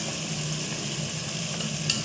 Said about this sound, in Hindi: अब मैं ना जो चिकन को भूना था वो भी इसमें हम डाल देंगे